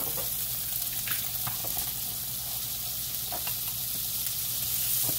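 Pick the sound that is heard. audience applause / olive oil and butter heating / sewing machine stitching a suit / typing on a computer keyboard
olive oil and butter heating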